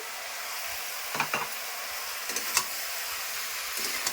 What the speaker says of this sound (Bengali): এখন আমি এটাকে ভালো করে নেড়ে চেড়ে ঢেকে দিয়ে দেবো।